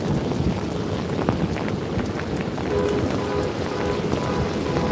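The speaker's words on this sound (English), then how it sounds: "just watch this beautiful rain coming down" Heavy rain pours down steadily outside a building, a dense, continuous hiss of drops hitting surfaces and puddles, loud and close with no breaks and no voices.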